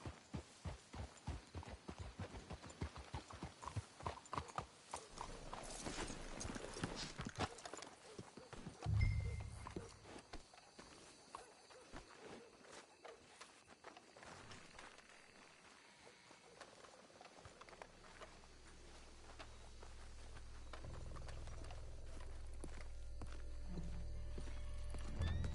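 Horse hooves clopping at a walking pace in the video game Red Dead Redemption 2, fairly faint, with snorts and shuffling, the steps thinning out before the clopping picks up again later.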